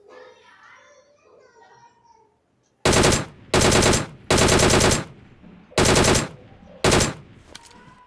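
Gunfire in a shooter video game, five loud, dense bursts of rapid automatic fire in quick succession, following quieter background sound and a voice in a game menu.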